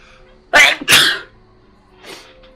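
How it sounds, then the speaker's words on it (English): Two loud, sharp sneezes in quick succession, close up, followed by a fainter breathy sound a moment later. "Spontaneous sneeze. The worst kind."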